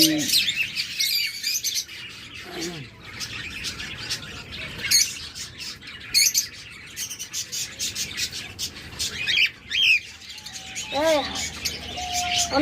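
Lovebirds, cockatiels and budgerigars in a bird shop chatter continuously, with dense chirps, tweets and sharp squawks close by, and a person talks intermittently beneath the calls.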